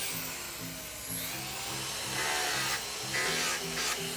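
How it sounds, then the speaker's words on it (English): A Makita 5-inch disc sander fitted with a very coarse grit disc grinds into a wood carving, giving a moderately loud rasping whir with a steady, pulsing hum that rises and falls as pressure changes. "this little Makita 5-inch disc sander tool with a very coarse grit disc is pretty darn handy"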